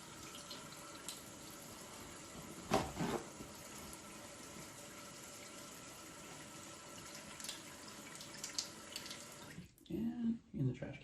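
Water from a tap runs into a sink while hands are rinsed, a steady soft hiss with occasional splashes, ending with a few brief spoken words near the close.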